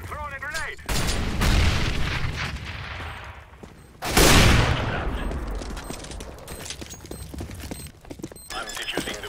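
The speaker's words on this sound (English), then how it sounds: "I'm throwing a grenade." Grenade blast and gunfire in CS:GO on the Cobblestone map during a pro match: a loud broadband burst near the middle after an earlier impact, with scattered shots and game noise around it and voices present.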